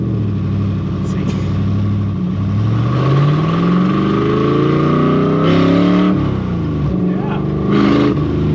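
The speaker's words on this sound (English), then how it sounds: "All right, let's officially take it for a drive." A flood-damaged ZR1 Corvette, freshly running after engine repairs, pulls away and accelerates, its engine note climbing in pitch, dropping at shifts and rising again, with people talking over it from inside the car.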